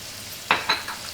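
Raw shrimp land in a hot pan with a few sharp sizzling bursts, three quick hissing flares in a row, close and fairly loud over a quiet kitchen background.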